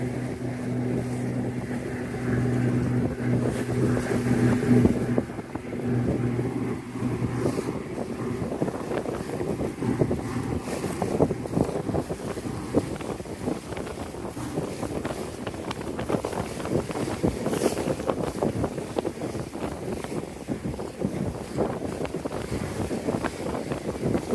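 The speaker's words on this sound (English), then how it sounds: "another of the aquatic vehicles that we're sharing the river with" Boat travelling up the East River in New York City, a steady engine and water rush under heavy wind buffeting the microphone, with a low hum early on and continuous churning throughout.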